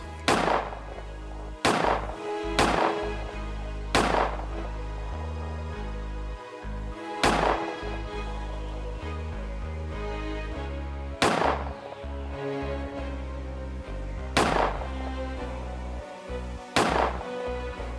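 Gunfire in an Albanian historical drama: about eight loud, sharp bangs spaced a few seconds apart over a low, sustained rumble, with no talking.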